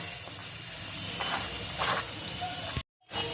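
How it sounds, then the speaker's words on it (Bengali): A paneer paratha fries in homemade ghee, giving a steady close sizzle and hiss that cuts abruptly to silence near the end. "তো এক পিঠ তো ভাজা হয়ে গেছে, এই পিঠটা হয়ে গেছে"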